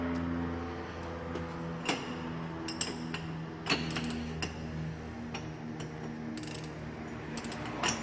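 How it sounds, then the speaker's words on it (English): A big half-inch ratchet turns on a tie rod of a 2004 Chrysler Town and Country, giving a run of quick, close mechanical clicks and ticks with a few louder clacks scattered through the stretch. "You can use an impact for this or a big 1/2-inch ratchet. See how a ratchet works out."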